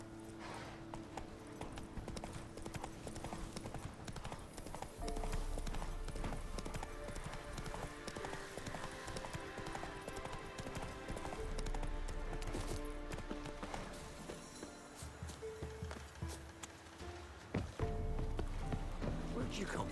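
Hooves of a galloping horse in The Witcher 3 drum steadily and fairly close, with game sounds and short bits of speech mixed in.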